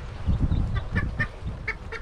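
Hens near an English coop give a few short honking clucks at spaced intervals, moderately close, over a low rumbling background.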